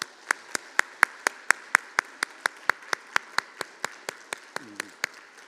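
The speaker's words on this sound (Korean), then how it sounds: "우리 박수해 주시기 바랍니다." A church congregation claps together in a steady, evenly spaced beat, with sharp distinct claps repeating about four times a second against a quiet room.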